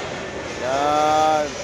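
An airplane passes overhead at a cemetery during a visit, a steady droning rumble that swells and fades over a second or so, with people talking nearby.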